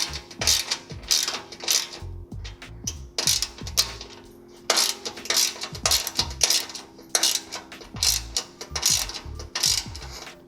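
Hand ratchet tightening skid plate bolts on a 1992-99 Mitsubishi Montero in a garage: bursts of rapid metallic clicking repeat in strokes, close and fairly loud, with no talk.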